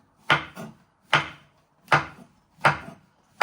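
A kitchen knife slices vegetables on a wooden cutting board while prepping Singapore vermicelli, giving five crisp, evenly spaced chops with short pauses between them, close and clear with no talking.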